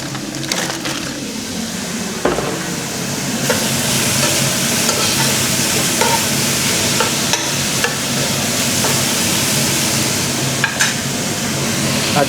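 Chicken pieces stirred in a pot for Filipino sopas, sizzling steadily with scraping stirs and occasional clunks against the pot, close and continuous with no talking.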